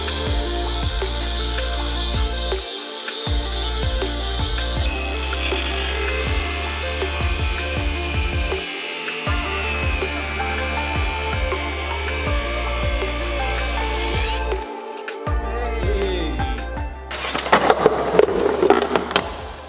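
Cutting tool grinding and sawing through metal on a wrecked Porsche GT4, a steady loud rasping whine running almost continuously with a few brief pauses and a harsher burst near the end, no talking.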